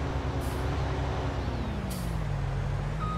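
A combine harvester raises its cutting header in a field: a loud, steady diesel drone carries a hydraulic whine that slowly shifts pitch, with two short bursts of hiss.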